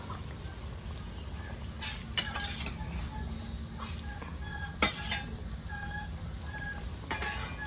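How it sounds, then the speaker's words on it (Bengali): Pabda fish simmers in a spiced curry with water in a pan, giving a steady low bubbling sizzle broken by a few sharp clinks and scrapes of a spoon stirring. "তো বন্ধুরা এবারে আমি মাছ দিয়ে দেবো।"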